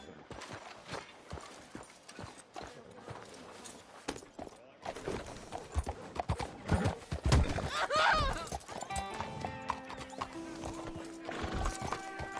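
Horse hooves clop in a steady walking rhythm in the video game Red Dead Redemption 2, with a horse whinnying and game music and other sounds layered over it.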